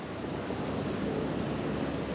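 Ocean waves crash onto rocks along the Southern California shore, a steady broad roar of surf and wash with no distinct breaks, fairly close, mixed with some wind noise and no voices.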